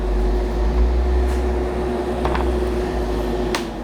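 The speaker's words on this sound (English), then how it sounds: "I'll turn off the fan, that's a bit noisy" A hobby spray booth fan runs steadily, a constant low hum with a faint tonal whine throughout, broken by a few small clicks and taps.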